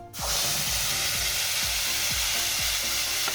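A ground paste of cashews, dried chilli, cumin and ginger hits a hot pan and fries with a loud continuous sizzle, while a spoon scrapes and stirs in a regular rhythm.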